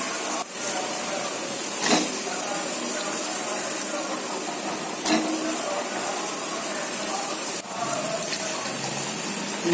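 Water pours steadily into a cooking pot of plantain pieces in a continuous rushing gush, with a few brief clanks of metal, fairly close and with no talking.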